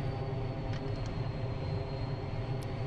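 F-14 jet coming in to land in the DCS flight simulator, a steady low engine rumble droning through the whole stretch with faint higher whines on top.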